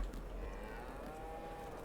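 A cow moos in a cow shed in Farming Simulator 22, one drawn-out low call lasting nearly two seconds, fairly quiet and alone.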